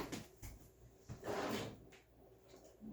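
A drawer slides open close by at a beading worktable, giving a brief wooden rumble and knock in otherwise quiet surroundings.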